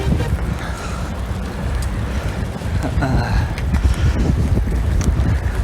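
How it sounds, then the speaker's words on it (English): Strong wind buffets the microphone with a low rumbling roar, gusting steadily outdoors beside a car. "Oh, the wind."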